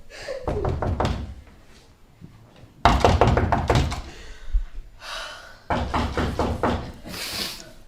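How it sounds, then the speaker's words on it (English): Knocking on a door, a radio drama effect set in a 1950s home, comes as three separate clusters of rapid, firm raps, close and loud, with short pauses between them. "Suddenly there's a knock on the door."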